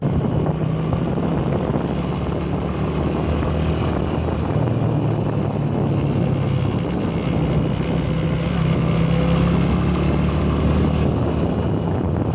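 A steady Honda CB125F motorcycle engine drone with a continuous low buzzing vibration and faint headlight rattle, running unbroken and fairly loud throughout.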